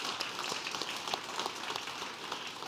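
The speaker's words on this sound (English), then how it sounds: "give them a round of applause" Applause from an audience at a policy conference on Baltic societal security, a steady, fairly quiet patter of many hands clapping throughout, with no voices over it.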